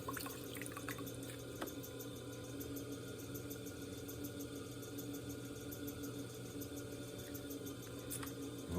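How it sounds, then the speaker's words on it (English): Water being removed from inside a round clay jar on a pottery wheel, heard as steady wet dripping and trickling over a continuous hum, with no voices. "All right, get the water out of the inside."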